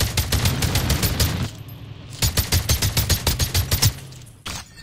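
Rapid automatic gunfire in Call of Duty Mobile, loud bursts of evenly spaced shots with a brief pause before the second burst and a final single shot at the end.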